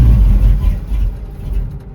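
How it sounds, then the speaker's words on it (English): A car engine cranks with a little throttle in cold weather, giving a steady, loud, low rumbling churn that wavers slightly without fully catching. "Trying to crank it, but giving it just a tad bit of throttle."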